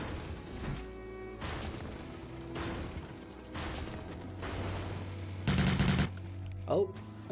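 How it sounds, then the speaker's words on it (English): Rapid gunfire bursts from the futuristic battle royale game Cyber Hunter during an EU tournament match, several broadband volleys crackling under ongoing commentary, with one louder, denser burst near the end. "We have the KA team making some more gunshots as well."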